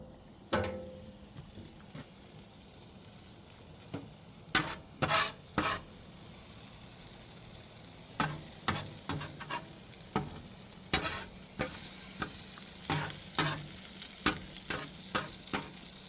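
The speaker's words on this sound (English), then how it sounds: "Hard work cooking up this barbecued venison sandwich here." Barbecued venison sizzles steadily in a pan while a utensil stirs and scrapes it, producing a string of sharp clattering strokes that come irregularly at first, then quicken into a fairly regular rhythm; close and moderately loud, with no talking.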